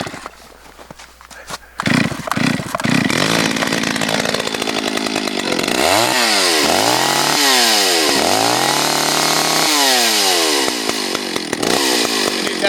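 A 60 cc Stihl chainsaw, an MS 310 or 034 AV Super, pulls into life and then revs up and down repeatedly in loud, rising and falling bursts, with a steady high idle in between, close by and alone.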